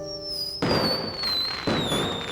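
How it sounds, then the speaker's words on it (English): Fireworks in the game Brown Dust 2, two loud booming bursts with crackling tails, a sustained high tone running underneath, no talk. "And there are fireworks."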